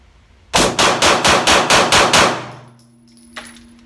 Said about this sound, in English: this is supposed to be 8 rounds rapid fire